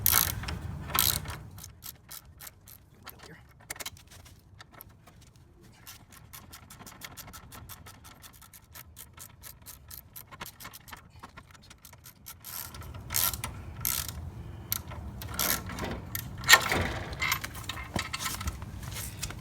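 Metal clicks and ratcheting from a wrench turning a bolt on the kickstand of a 2010 Victory Vision motorcycle, sparse at first, then denser and louder near the end.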